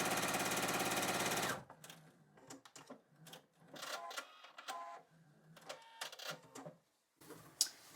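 A sewing machine joins fabric scraps for a scrappy modern coaster, giving a short, close, steady run at the start, then fabric rustling and small clicks of handling.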